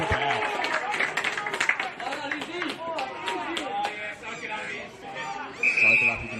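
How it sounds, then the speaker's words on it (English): Spectators at an amateur Australian rules football match applaud and chatter after a player's kick for goal, a broad, moderate wash of clapping and crowd murmur under a commentator's voice, with a brief whistle tone near the end. "let the applause die down as his kick found green"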